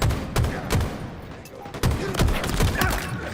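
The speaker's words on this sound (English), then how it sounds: "In a hail of gunfire." Rapid bursts of gunfire crack repeatedly at an irregular pace, sharp and close, like a firefight in Halo Infinite.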